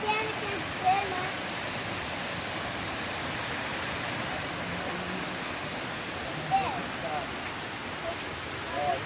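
Small waterfalls along a closed-in forest trail on the way to Cachoeira do Navio near Pedra da Gávea, giving a steady broadband rush of falling water that holds constant throughout, with a couple of brief faint sounds over it.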